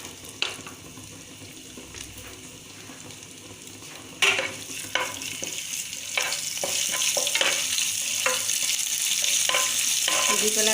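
Cumin, fenugreek and ginger paste fry in hot oil with a steady sizzle that swells louder midway, while a spoon scrapes and clatters against the pan in repeated sharp knocks.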